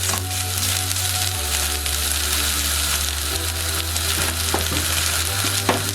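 Chicken and vegetables stir-frying in a pan, a dense continuous sizzle close up over a low steady hum, with a couple of brief utensil clicks toward the end and no speech.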